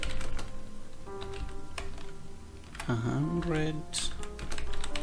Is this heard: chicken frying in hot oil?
no